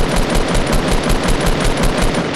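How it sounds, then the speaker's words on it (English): Gunfire in the game Fortnite, with a hunting rifle among the weapons, as a loud, continuous stream of rapid shots lasting the whole moment with no talk. "Hunting rifle."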